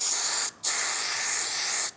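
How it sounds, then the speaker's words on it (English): Two sustained hisses of an aerosol spray can, close and loud, separated by a brief pause, with a second long burst running almost two seconds. "Let's spray it"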